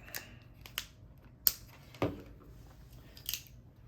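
Several sharp, separate cutting snips as a battery box is cut away so it can be wired directly, each crisp snap spaced apart and close by in a quiet room.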